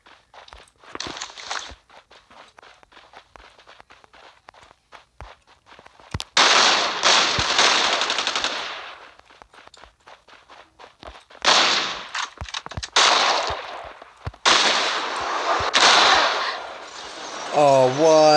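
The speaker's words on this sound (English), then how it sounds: "Those are rockets." Rocket explosions and gunfire in a video game match, loud bursts of blasts and rapid shots in several clusters separated by quieter stretches of footsteps and small clicks.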